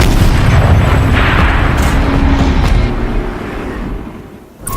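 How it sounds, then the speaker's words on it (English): A turret firing in Horizon Zero Dawn, a loud, heavy boom with a rumbling blast that fills the first few seconds and then decays away. "Rotate turret! And fire!"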